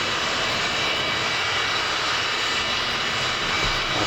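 A Vautour IIN jet aircraft in Microsoft Flight Simulator sits with its engines running in a steady, loud, broadband roar that holds even throughout, with no talk over it.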